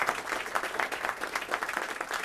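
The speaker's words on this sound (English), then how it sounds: "So please give them a round of applause." Applause from an audience at a North Miami city council meeting honoring award-winning students, a steady patter of many hands clapping at moderate loudness.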